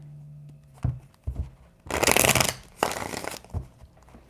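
Tarot cards being shuffled by hand, two bursts of riffling and sliding card noise, each lasting around half a second, between softer taps and handling sounds, close and fairly quiet.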